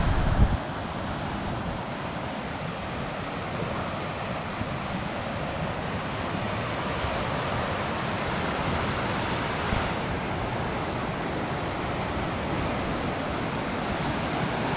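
Waves wash continuously onto the Baltic Sea shore by an island castle while wind buffets the microphone, a dense, steady roar of surf and gusts with no one speaking.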